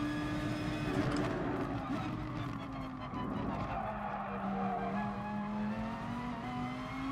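Race car in the Gran Turismo Sport video game runs steadily with a sustained engine tone that sweeps down and back up through corners, with tire squeal and skidding over it at moderate volume.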